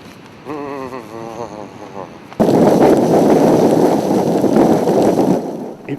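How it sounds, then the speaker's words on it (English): Ferocious sandstorm wind on Namibia's Skeleton Coast with no dune shelter: a voice speaks briefly, then a sudden loud roaring buffet of wind hits the microphone and blasts steadily for several seconds. "It feels even colder due to the ferocious sandstorm that has whipped up from the south."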